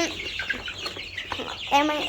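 Young chickens gathered together, chirping and clucking in a steady soft chatter with a brief louder call near the end.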